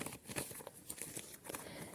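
A paper surprise packet is picked up and handled, producing quiet, close crinkles and crackly rustles in irregular little bursts.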